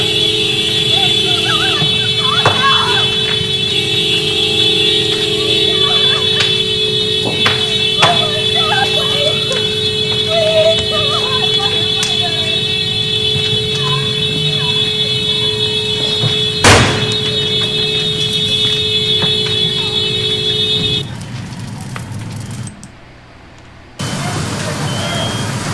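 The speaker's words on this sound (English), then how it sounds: "and there goes the alarm" An alarm sounds in California as a steady, loud, high electronic tone. It holds over background noise for most of the time, then cuts off near the end.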